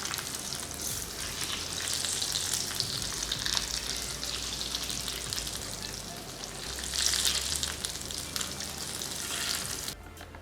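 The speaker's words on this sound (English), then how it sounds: "I slowly pour this sizzling oil over the meat. Its sizzle and smell are truly mouth-watering." Hot oil with crushed red pepper poured over beef sizzles steadily and loudly, a bright crackling hiss that swells around the middle and again near the end before cutting off abruptly.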